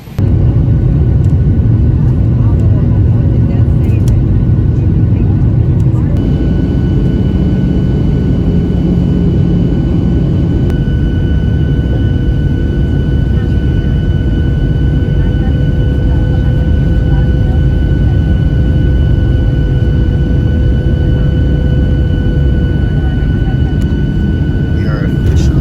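Steady, loud jet airliner cabin roar with a deep rumble and faint whining tones, continuing unbroken throughout as the plane lands in Miami, with faint background chatter.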